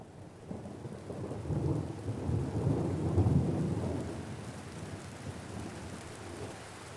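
Heavy rain pours steadily on a forest bungalow while a low roll of thunder swells and rumbles through the middle before fading back into the downpour.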